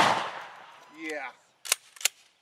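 A shotgun fires double-aught buckshot shells: two sharp, loud blasts in quick succession near the end, preceded by a brief voice and a fading whooshing tone.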